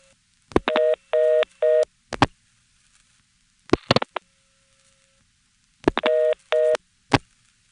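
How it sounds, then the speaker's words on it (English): Touch-tone dialing into the Clark's Hill trunks on a GTE/Leich CXP-5 switch: clipped clicks and short bursts of steady dual tones in a few quick groups, separated by silent pauses, with no voices. "I tried dialing a 3 into those trunks, followed by every 1000 group"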